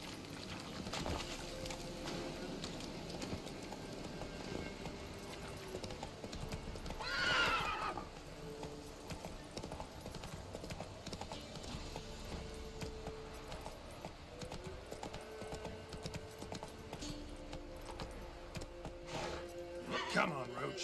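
A video game horse named Roach trotting, its hooves clip-clopping in a steady rhythm for about twenty seconds, with a loud neigh partway through and faint ambient game sounds around it.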